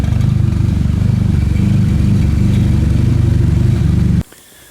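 A rich-running Nissan SR engine roars loudly and steadily with a harsh, aggressive tone, holding high revs for about four seconds before cutting off abruptly into near quiet.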